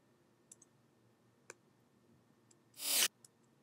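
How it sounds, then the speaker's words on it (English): Reversed recorded beatboxing forms a short swelling whoosh that builds in loudness and cuts off abruptly, preceded by a few faint ticks and clicks in near silence. "The next sound we have is this weird little reverse noise"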